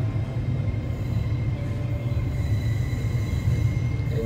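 An LNER Azuma Hitachi AT300 train starts moving, rumbling steadily close by, a low continuous roll of wheels on track with faint metallic squeals creeping in.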